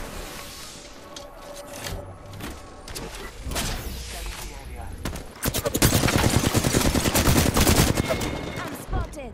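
Automatic gunfire rattles in Apex Legends, sparse shots early and then a loud, dense burst of rapid fire with impacts in the second half.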